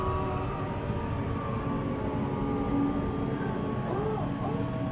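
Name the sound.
LRT Jakarta light rail train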